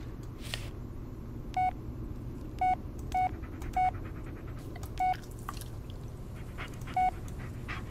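Keypad tones from a telephone being dialed in The Blair Witch video game: seven short, evenly spaced beeps over a low ambient hum, with faint panting in the background.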